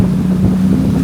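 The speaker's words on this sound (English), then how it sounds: "Feeling the wind." Loud, steady wind buffeting beside a waterfall in the Norwegian fjords, with a low droning hum underneath, continuous and close throughout.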